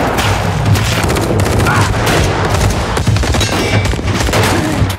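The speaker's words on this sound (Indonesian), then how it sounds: "Terjadi baku tembak dengan tim 58." A gunfire exchange in a drama series, with dense rapid shots and bursts crackling continuously and loudly throughout, layered with low booms and a steady low rumble beneath.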